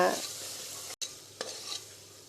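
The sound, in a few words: stirring yogurt into mushroom biryani masala in pan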